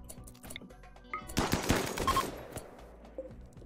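RimWorld gunfire on a tomb world, a rapid burst of machine-gun-like shots building to a dense cluster in the middle, then thinning out to scattered pops against quiet game sound.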